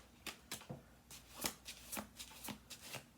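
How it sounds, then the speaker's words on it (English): Tarot cards riffle-shuffled by hand in a quiet room, a quick run of crisp flicking bursts repeating at an uneven rhythm, close and fairly soft with no talk. "I'll do two more shuffle throughs"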